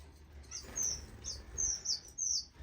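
Strawberry finches kept in a bird room give soft, high chirps and tweets in short repeated bursts, fairly faint and close, with a low background hum and no voices.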